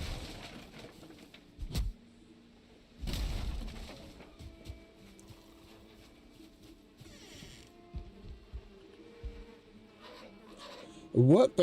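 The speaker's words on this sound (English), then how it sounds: "So that we can get rid of those bees." Bees buzz in the survival game Valheim, a faint insect drone heard under occasional game effects and thumps, with louder bursts near the start and end.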